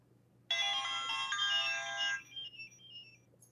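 Sonic the Hedgehog keychain toy sets off a short electronic sound effect: a bright, buzzy tone burst of about a second and a half, then a fading trail of high chirps, heard close over a faint hum with no talking.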